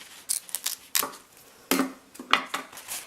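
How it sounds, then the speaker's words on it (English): Scissors snip a tag off a fabric pencil pouch, a handful of short, sharp close-up cuts and rustles spaced irregularly with brief quiet gaps. "I'm just going to cut this tag off really quick."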